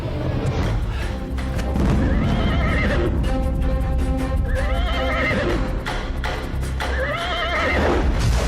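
Repeated loud whinnies from a galloping horse ring out over a thick rumble of hooves and low thuds, sustained and near throughout a chase in a period legend drama, without any voices.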